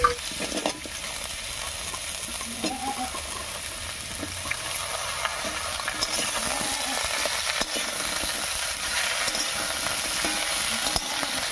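Potato, papaya, carrot and drumstick pieces sizzle steadily in a pan of hot oil while being stirred, a continuous close frying hiss with soft scraping and no talk.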